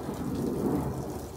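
Rain falling with a low rumble of thunder, a dense steady wash of drops under a deep continuous roll, moderately loud and unbroken throughout.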